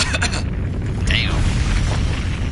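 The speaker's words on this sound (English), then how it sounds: "So now I get to see the explosion in super high def." Explosion in the video game Resident Evil 3, a deep booming blast with rumbling low end and a brief bright crackle, heard close and loud.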